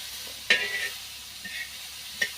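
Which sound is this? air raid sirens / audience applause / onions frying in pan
onions frying in pan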